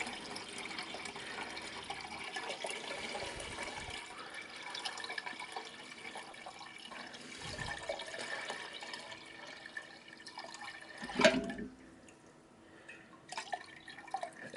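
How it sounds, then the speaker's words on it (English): Liquid from a copper crystal-growing solution poured out of a bowl, a faint, steady trickle and splash under room noise with a brief louder splash partway through. "And this is not easy to pour out of this bowl"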